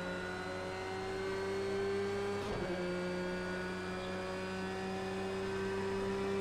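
Race car engine in Project CARS 2 racing at Fuji, held as a steady droning tone with a brief rough burst midway, continuous and fairly quiet with no talk.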